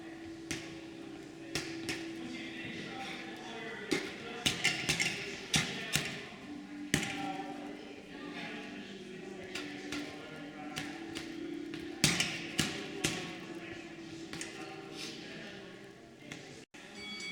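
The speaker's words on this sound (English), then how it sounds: "Doing some uppercut drills here on the water bag" Boxing gloves landing uppercuts on a water bag, a series of sharp, irregular thuds and slaps in quick bursts with short pauses, close by over a faint background hum.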